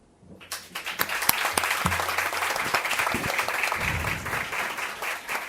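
Sustained applause fills a legislative assembly chamber in Pernambuco, a dense, steady clatter of many hands that starts abruptly and holds fairly loud throughout, with faint murmurs beneath.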